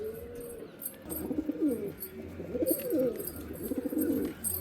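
Pigeons in a home loft cooing up close, repeated rolling coos in steady bursts with faint chirps above, no talk.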